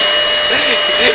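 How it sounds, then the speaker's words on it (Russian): Red Quaker vacuum cleaner running, a loud steady motor whine filling the moment while a person talks over it. "Это новый пылесос от Quaker."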